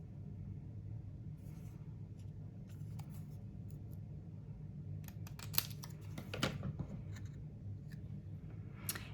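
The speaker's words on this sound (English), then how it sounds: "And now I'm going to trim the edge of this at an angle." Papercraft card stock is trimmed at an angle, producing faint, close snips and scrapes that cluster in the second half over a low background hum.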